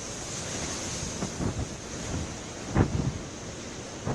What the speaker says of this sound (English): the sound of the waves which gives so much peace at one time